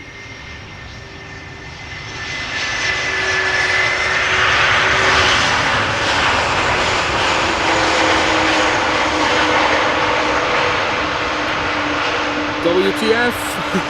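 A departing or arriving jet airliner at Amsterdam Schiphol Airport builds from a distant rumble to a loud, broad engine roar that holds for several seconds before easing slightly, with no talk over it.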